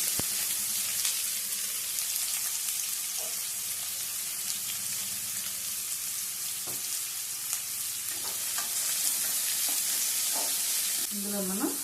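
Onions frying in a pan give a steady close sizzle throughout, with occasional stirring scrapes and light clinks over the constant crackle.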